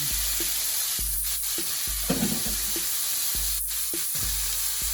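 Bone-in meat sizzles and fries in hot oil in a pot for Thanksgiving dinner, a steady crackling hiss with a low hum beneath and periodic scraping stirs at roughly regular intervals.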